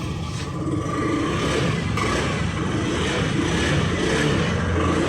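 Honda Zoomer-X scooter engine running just after starting, a steady close idle with a faint clattering texture, continuous and without talk.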